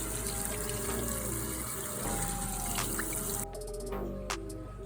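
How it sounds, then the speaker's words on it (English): Tap water pours steadily over a Nike Vapor Max Plus shoe, rinsing out pink fabric dye. The close, continuous splashing rush runs the whole time, with a brief shift in tone near the end and no talking. "it's very important to rinse the dye as much as you can out"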